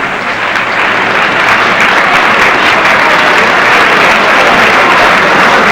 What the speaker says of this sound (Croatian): Ja mislim da ovaj čin može biti popraćen jednim vašim aplauzom.